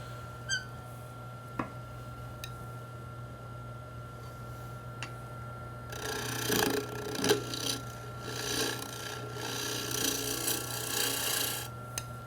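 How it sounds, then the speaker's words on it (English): Bowl gouge cutting across the face of a spinning wooden toy top on a lathe, starting with faint ticks and a steady motor hum, then breaking into a loud, continuous raspy scraping for the last half. "I'll use the bowl gouge to smooth up the face again."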